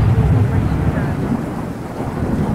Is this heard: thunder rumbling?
yes